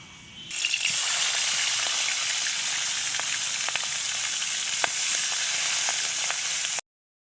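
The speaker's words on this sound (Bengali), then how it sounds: "তেলটা গরম হয়ে গেলে মাছগুলো দিয়ে দেবো।" Fish pieces frying in hot soybean oil for a village-style fish curry, a loud close hiss and crackle that swells in after a brief quiet start and holds steady before cutting off abruptly.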